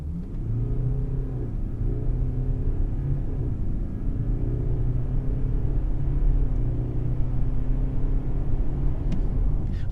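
A BMW X3 20d xDrive diesel SUV pulls away in a quick start on a slippery surface, its engine giving a steady low rumble and hum heard from inside the cabin, with no rise in revs and no talking.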